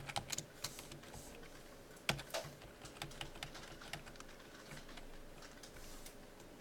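Quick, irregular clicking of keys on a computer keyboard as code is typed, with a few sharper keystrokes standing out, fairly close and alone.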